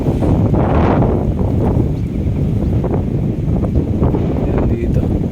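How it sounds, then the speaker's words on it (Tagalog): Strong wind gusting at a bridge construction site in Bulacan, a loud continuous roar of wind buffeting the microphone with surges, while a person talks under it. "lakas ang hangin talaga"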